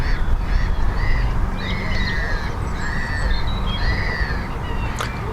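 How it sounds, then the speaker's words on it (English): Birds calling outdoors on a fine day, a few clear repeated chirps and whistles standing out over a constant low rumble of background noise. "Hear the birds."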